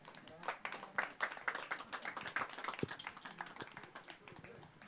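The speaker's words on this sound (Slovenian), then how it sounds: "En aplavz še za najboljše ekipe." At a Slovenian badminton association day awards ceremony, a small group gives a quiet, distant round of scattered clapping for the best teams, the individual claps audible as uneven taps, with voices talking alongside.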